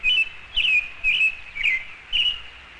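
A robin chirps five times in a steady, evenly spaced rhythm, each bright call clear and fairly close against a faint, quiet background.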